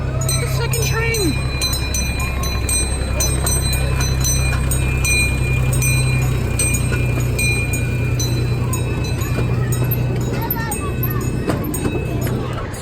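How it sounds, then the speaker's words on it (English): A theme park ride train at Castle Park in Southern California rumbles steadily close by, its low engine drone continuous throughout, with crowd chatter and voices running underneath. "Seriously though, so cool to get on one of those trains."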